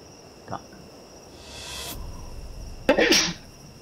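A single loud, close sneeze in an ARK survival game, a short intake followed by a sharp burst, with a faint ambient hum and a small click before it.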